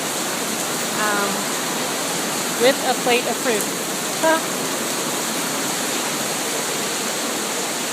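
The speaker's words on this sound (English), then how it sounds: "And it is pouring rain" Heavy pouring rain at a school gives a dense, even roar throughout, with a person speaking briefly over it in a few short phrases.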